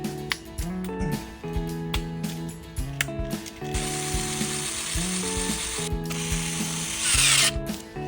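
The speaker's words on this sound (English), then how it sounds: "Use PM320 screws to connect the Z-axis module and the slider." Power driver whirs and ratchets in repeated bursts while PM320 screws are tightened to join a Z-axis module to its slider during winding machine assembly, with no voice over the mechanical clicking.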